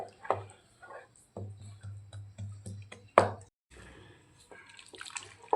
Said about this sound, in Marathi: तेवढं पाणी मी ॲड करून आता याला डाळी आपण छान घोटून घेऊया